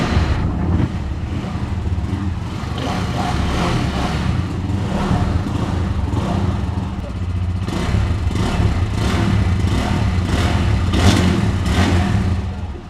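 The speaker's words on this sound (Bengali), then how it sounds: "এবার আমরা বাইকটার এক্সস্ট সাউন্ড শোনাচ্ছি, এটার সাউন্ডটা কেমন আমরা এখন স্টার্ট দেব।" A GPX Demon 165RR motorcycle is started, and its exhaust settles into a steady, deep, loud running note nearby, with a few brief throttle blips, throughout.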